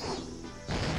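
Baseball slamming into a catcher's mitt as a visual novel sound effect, a single loud crashing smack with a short ringing tail, heard alone.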